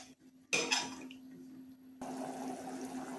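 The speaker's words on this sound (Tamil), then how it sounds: "தண்ணி கொதிச்சிருச்சு" A metal lid clatters, then water boils in a covered pot with a steady bubbling hiss, quiet and close.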